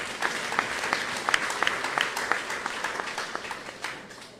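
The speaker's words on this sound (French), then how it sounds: "Applaudis pendant qu'il y a pas avancé, s'il vous plaît." A church congregation applauds as a speaker steps up, a crowd of scattered, distinct claps rising and falling in loose rhythm before gradually thinning out, with faint voices in the mix.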